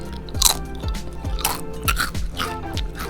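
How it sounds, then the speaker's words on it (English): Crisp bites and crunches on a cheese-flavored Dorito tortilla chip, several repeated crunchy chews close to the mic with no talk over them. "You can still get a satisfying crunch."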